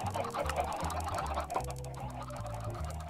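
Minecraft chickens cluck repeatedly over a dense, loud backdrop of game music, with no voices present.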